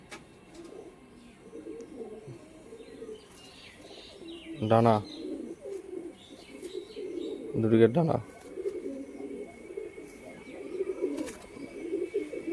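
A pair of Saharanpuri pigeons coos softly in a steady, low murmur, broken by two sharper flutters of sound, while someone talks over them nearby.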